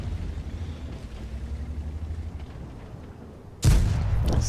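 A single heavy tank cannon shot from a Panther in World of Tanks on the Sand River desert map, a sudden loud boom near the end, following a low rumbling engine drone.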